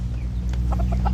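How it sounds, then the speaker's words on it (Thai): American Silkie chickens clucking in short soft bursts over a steady low mechanical hum, close by. "เป็นไก่ซิลกี้อเมริกานะครับ"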